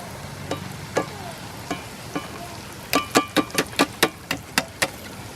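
Sitabhog sweets made from semolina fry in hot oil, giving a soft bubbling hiss under a run of sharp, regular clicks and taps, about a dozen in quick succession near the end.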